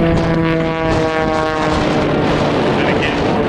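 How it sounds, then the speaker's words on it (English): An aerobatic propeller airplane performs rolls and tumbles at an air show in Texas, its engine a loud, continuous droning roar with a steady tone that fades slightly, while an announcer talks over it on a public address system. "Now he's going to tumble the aircraft."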